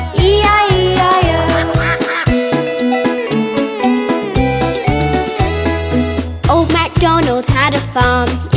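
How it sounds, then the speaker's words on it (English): Cartoon ducks quack along with bright sung music in a children's farm nursery rhyme, repeated quacks sitting over steady bouncy backing with jingly accents. "And on his farm he had some ducks, E-I-E-I-O."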